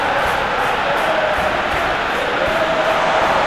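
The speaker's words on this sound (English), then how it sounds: "Crowd appreciates good football all round there." A football stadium crowd in the Football Life 2023 video game, during a FC Barcelona match, keeps up a steady, dense roar of murmuring and cheering throughout, with no pauses.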